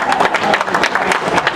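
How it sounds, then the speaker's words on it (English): Guests at a harbor commission gathering clap in response to a call for attention, a short, loud burst of fairly loose, uneven hand claps mixed with crowd murmur. "if you can hear me, clap."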